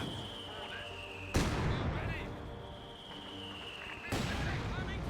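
Mortar fire in the real-time strategy game Company of Heroes 2: two sharp booming shots about three seconds apart, each followed by rumbling decay, set over a steady battlefield ambience.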